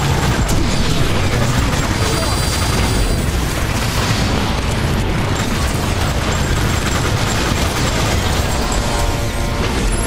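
Dense, continuous roar of weapon fire and booming blasts in the game Transformers: War for Cybertron during a fight against Omega Supreme, loud and unbroken throughout with no clear pauses.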